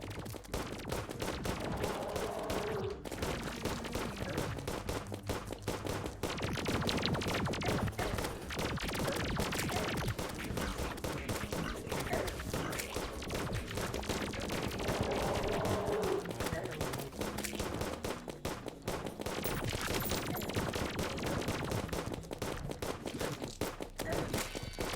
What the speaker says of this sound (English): I'm blowing up so many explosions.